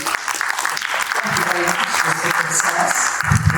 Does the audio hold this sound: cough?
no